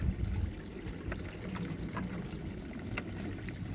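Koi pond water draining away after the pump is switched off, a steady low trickling and pouring flow with faint splashy ticks throughout, heard close and alone.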